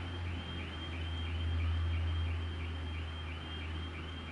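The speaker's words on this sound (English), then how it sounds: "That's a car alarm." A faint car alarm wailing in the distance, its rising and falling tone repeating steadily over a low background hum.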